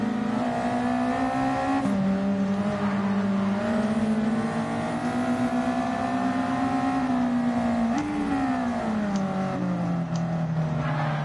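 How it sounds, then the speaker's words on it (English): A race car in the video game Gran Turismo drones steadily at close range, its engine note rising and falling, then dipping in pitch as it sweeps past, loud and without talk. "car's just come across the front of the screen"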